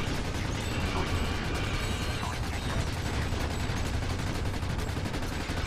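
Rapid automatic gunfire from a weapon fitted with speed mods in the Ratchet video game, a dense continuous stream of shots with mechanical clatter, loud and steady throughout.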